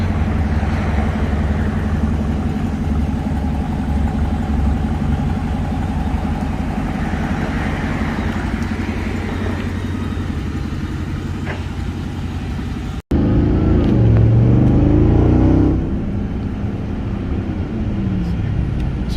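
Deep engine rumble of a Ram TRX pickup with an aftermarket AWE exhaust idles steadily under faint voices, then the sound cuts to a louder burst of rev inside the cabin.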